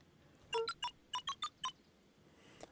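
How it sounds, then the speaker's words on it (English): Letters are entered on a keypad in the Beacon Pines video game, producing seven short electronic beeps at varied pitches in a quick uneven run, clear and alone against faint background. "cracked his knuckles and entered the letters into the keypad"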